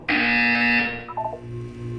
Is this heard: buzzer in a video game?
yes